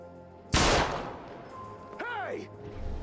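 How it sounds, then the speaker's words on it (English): A single sharp, loud gunshot in the video game Little Hope, cracking suddenly and ringing out into a decaying tail, followed by a short whooshing effect; no one talks. "You take a goddamn shot at me?"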